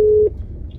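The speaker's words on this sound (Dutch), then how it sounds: "Ik bel Urbanus, mobiel." A mobile phone call tone plays as a steady single beep, loud and close, then breaks off into faint line noise.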